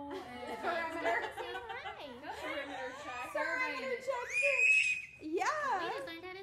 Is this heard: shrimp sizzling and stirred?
no